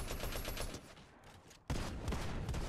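Shotgun and other gunfire in the video game Fortnite sounds as a dense, loud burst of shots, thins out briefly, then comes back in a heavy volley.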